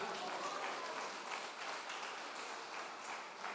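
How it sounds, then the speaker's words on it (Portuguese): A church congregation claps in praise during a sermon, a soft, distant wash of continuous hand clapping holding steady without a break. "As palmas para o Senhor, diga glória."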